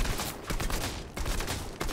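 Rapid bursts of gunfire from another player shooting in Fortnite, dense overlapping shots in quick succession with brief gaps, loud and close throughout.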